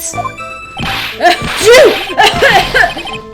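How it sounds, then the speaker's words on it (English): A cartoonish voice in the video game Ace Attorney: Trials and Tribulations lets out a few loud, drawn-out sneezes in quick succession, each with a voiced wind-up and a sharp burst. "you can't avoid answering the question by sneezing all day"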